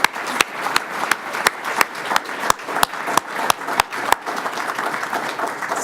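A room of attendees claps at a historic preservation awards ceremony, a steady wash of applause punctuated by sharp, evenly spaced louder claps close by, continuing throughout at moderate volume.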